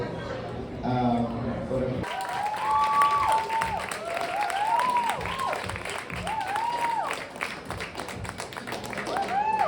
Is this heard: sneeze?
no